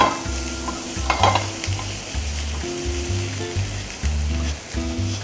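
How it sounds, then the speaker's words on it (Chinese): Shallots sizzle and fry in hot oil in a wok for tom yum fried rice, with a steady crackling sizzle broken by repeated stirring and scraping strokes in an uneven rhythm, close and fairly loud. "我哋就可以將呢個紅葱頭首先擺落去爆香佢"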